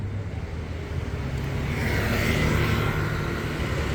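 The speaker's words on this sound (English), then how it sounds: "There goes the Baht bus." A baht bus rolls past on a street in Pattaya, Thailand, its steady engine and road rumble building to a broad, fairly loud swell mid-pass amid ongoing traffic noise.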